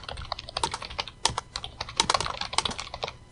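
Steady typing on a computer keyboard while coding in Python, with quick, close key clicks in an uneven rhythm and occasional firmer keystrokes, with no talking.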